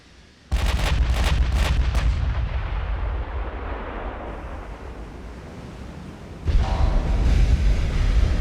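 Heavy naval gunfire in Ultimate Admiral: Dreadnoughts: a close salvo of several booming cannon shots in quick succession, a long rumbling fade, then another loud blast near the end.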